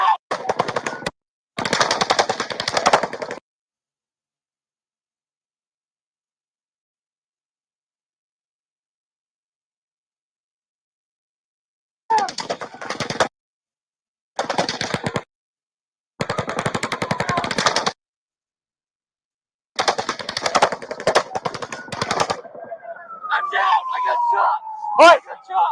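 Bursts of rapid automatic gunfire during a mass shooting at a 2017 outdoor event crackle in several long volleys separated by silent gaps, distant and echoing.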